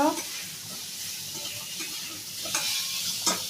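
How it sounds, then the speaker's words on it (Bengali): Mango chutney cooking in a pan at home, stirred with a utensil, giving a steady soft sizzle with occasional scraping strokes near the middle and end, close and moderately quiet. "এখানটায় চাটনি, আম দিয়ে চাটনি করা হচ্ছে।"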